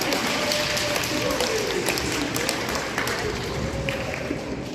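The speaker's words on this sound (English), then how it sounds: "Everybody get up for Harrison. It's round of applause." Audience applause at a live animal show, clapping spread throughout with voices and crowd chatter mixed in and a faint tonal whine in the background.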